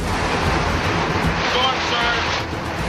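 Hurricane storm surge water rushing into a room during Hurricane Katrina, a loud, steady broadband roar of pouring water and wind that holds unbroken throughout, with no voices rising above it.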